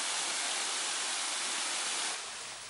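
Bigăr waterfall in the Anina Mountains, a steady broadband rush of falling water, loud and close, that eases slightly toward the end.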